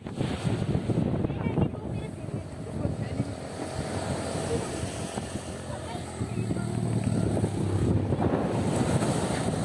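Ocean waves rolling onto a beach in Balochistan, a steady broad wash of surf mixed with heavy wind buffeting the microphone, continuous and fairly loud throughout.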